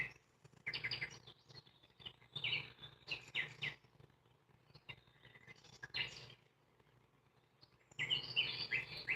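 Faint bird chirps and warbling calls from a sound machine come in short, irregular phrases over a quiet background, with no talking.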